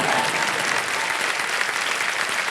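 Steady, dense applause from a game-show studio audience, many hands clapping continuously at close range with no pauses and no talking over it.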